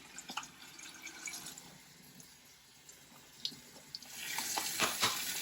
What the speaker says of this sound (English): you can actually wash them right in the container and the water runs right through them